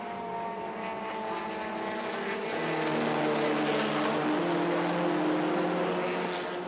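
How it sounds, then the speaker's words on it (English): Race cars at a Thailand Super Series circuit, including a Honda CR-Z, roar past with engine drone rising in pitch, turbo whistle tones threading over the steady mid-distance engine noise. "You can hear the turbos whistle every now and again."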